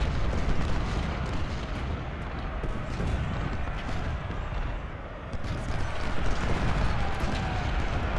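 Artillery fire in the Civil War strategy game Ultimate General: Civil War, a dense, continuous rumble of booming cannon blasts rolling together at steady loudness, with no distinct pauses and no talking.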